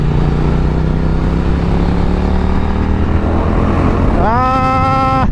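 A 2020 Triumph Street Twin five-speed motorcycle riding on a highway, a loud steady engine drone with wind rush, then a sharp rise in revs near the end as the rider accelerates.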